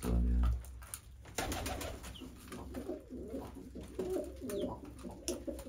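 A pigeon coos softly in a low, repeated murmur, close but quiet, while a person talks nearby at intervals.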